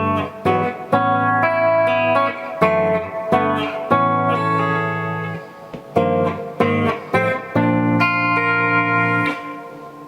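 Guitar plays the chordal intro of a song, a series of lush, ringing add9-style chords with effects and reverb, struck in phrases with short gaps, clear and alone without talk.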